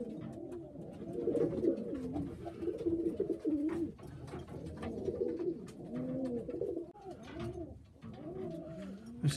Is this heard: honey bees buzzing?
no